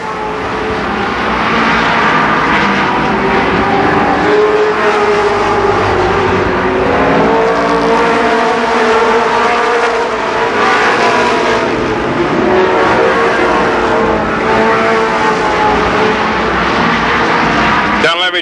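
All American Midget race cars at Columbus Motor Speedway in 1991 make a loud, continuous droning engine whine, rising and falling as they race, with an announcer talking over it throughout.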